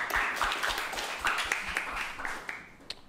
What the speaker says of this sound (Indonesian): Tepuk tangan dong yang Gemini dong